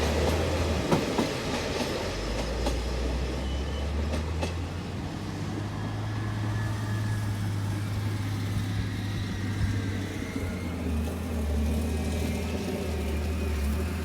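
A stone-carrying freight train hauled by a GEK diesel locomotive rumbles steadily past with deep engine drone and intermittent clattering of wheels on rails, continuous and fairly close, no voices.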